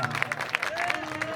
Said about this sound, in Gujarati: તાળીનો અવાજ આવવો પડે તાળીનો અવાજ.